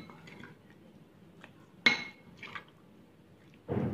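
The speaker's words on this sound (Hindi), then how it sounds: "इसको हम मिक्स करेंगे अच्छी तरह से चिकन के ऊपर लगा देंगे" A spoon clinks against a bowl while chicken marinade is mixed: soft wet squelches, a sharp metallic tap in the middle, then a louder wet stirring burst at the end, all close and otherwise quiet.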